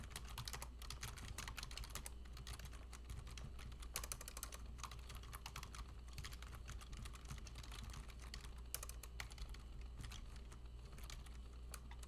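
Steady, continuous clatter of mechanical keyboard typing throughout, close and fairly quiet, with dense rapid keystrokes over a low hum and no talking.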